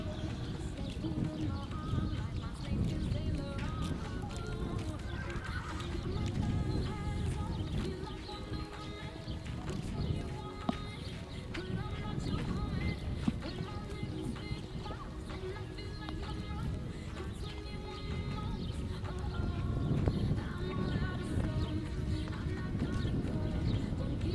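A horse ridden through a women's U19 European Cup show jumping final round in Drzonkówy, with a steady, continuous hoofbeat and movement sound under constant arena ambience and a public-address voice.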